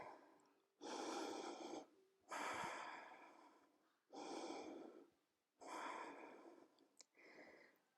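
Slow, deep breaths during a stretching exercise, five long airy inhales and exhales separated by short silences, close and clear with no talk.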